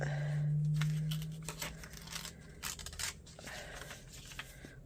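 Scissors snip and slice through a paper sewing pattern during a tummy adjustment, giving a series of close, crisp cuts and paper rustles. A low steady hum runs underneath at the start, and no one speaks.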